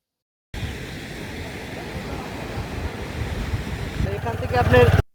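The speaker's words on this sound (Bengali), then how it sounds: "একেবারে সমুদ্র সৈকতের পারে চলে আসলাম" Sea waves wash continuously onto Kuakata beach in Bangladesh, a steady roar of surf with wind noise that swells louder toward the end.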